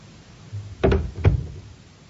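A front door in a narrated story sound effect: two solid, close thumps about half a second apart, like a door opening and then shutting, over a quiet background.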